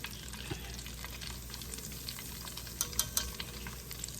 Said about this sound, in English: Put a couple more in and then we're going to fry it